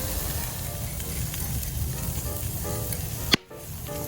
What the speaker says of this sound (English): Oh wow, that's good. Look at that sizzle.